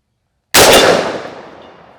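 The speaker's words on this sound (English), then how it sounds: "I'll probably ruin that piece of steel, but I'm going to shoot it anyway." A Bear Creek Arsenal rifle in .458 SOCOM fires once at a steel target, giving a single loud, sharp crack and clang that decays over about a second and a half.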